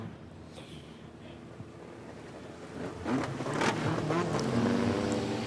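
Stock car engines roar at a Border Stock Car Association regional meeting, a distant rumble that swells louder as cars pass amid wind noise.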